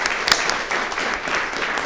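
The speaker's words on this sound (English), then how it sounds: "please join me in another round of applause" Brief, steady applause from an audience honoring speakers at a Crimean Tatar remembrance event, a continuous rustle of clapping with one sharper clap standing out early on.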